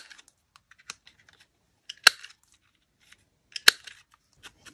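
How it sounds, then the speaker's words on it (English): Scissors cut a paper botanical charm for a junk journal. Sparse close snips and small paper clicks are set against quiet, with two sharper, louder snips standing out. "So I'm going to cut it into a square piece."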